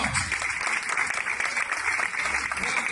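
Church congregation applauding during a sermon, a dense, continuous wash of clapping that stays steady and fairly loud throughout the short stretch.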